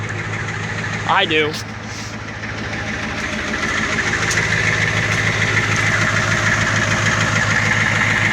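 A 1993 Ford F350 with a welder body and a broken exhaust idles nearby, a steady, loud, rumbling beat that grows slightly louder, with someone speaking briefly over it early on.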